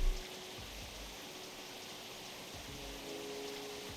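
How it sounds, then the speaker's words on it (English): Steady, soft rainfall in a video game, a continuous hiss with a brief thump at the start and faint low bumps, with no talking. "I like the rain though. It's kind of relaxing."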